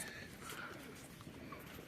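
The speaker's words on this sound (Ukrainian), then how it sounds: "Трошки голубів вам в відео" Pigeons gathered at a puddle coo softly amid a steady outdoor background hum, the calls low and intermittent over about two seconds.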